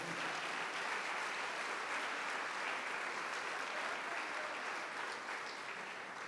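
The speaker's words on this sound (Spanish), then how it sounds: "un aplauso al Señor" Sustained applause from a church congregation, dense and even clapping throughout without a break.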